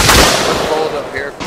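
Loud, close gunfire in the military video game ArmA: a sharp burst of shots at the start that decays into a rumbling echo, followed by fainter distant reports.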